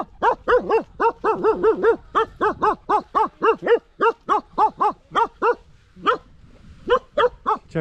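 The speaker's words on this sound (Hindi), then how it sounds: "ये अभी एक सांस में भौंक रहा है" A Bakarwali dog barks in a long unbroken run of loud, evenly spaced barks close by, with a brief pause near the end before a few more barks follow.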